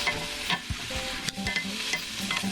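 London broil steak browning in a hot skillet with a little sprayed fat, loud steady sizzling with several scraping stirs and shifts of the meat, no talk.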